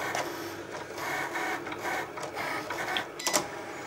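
A Cricut Explore cutting machine slices a small brown piece of paper on its mat, giving a steady close mechanical whir with a repeating rhythmic texture and a few brief louder ticks near the end.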